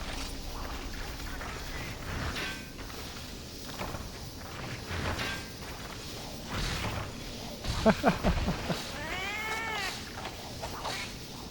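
The Felyne cat companion in Monster Hunter Freedom Unite gives a few short meows and a caterwaul-like call over busy game sounds of footsteps, swooshes and clatter, with a person talking now and then.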